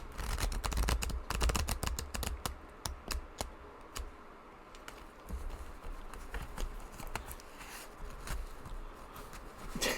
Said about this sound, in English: a bunch of cards fell out. We're going to have to reshuffle that